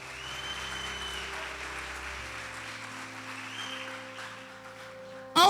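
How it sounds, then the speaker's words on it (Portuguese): Congregation clapping at a church service, a sustained layer of applause under lingering music tones and crowd noise, growing suddenly louder at the very end. "Você pode dar uma salva de palmas para o Senhor?"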